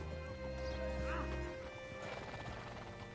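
Horse hooves clip-clopping with a whinny in Red Dead Redemption 2, set against a busy layered game soundscape with music-like tones, a loud low rumble fading after the first second and a half.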